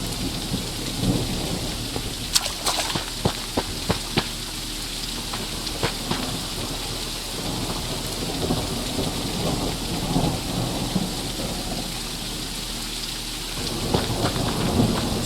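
Steady heavy rain pours down in a fantasy video game, with close patter on surfaces and several sharp cracks of thunder breaking through the continuous downpour.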